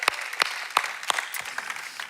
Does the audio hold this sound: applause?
yes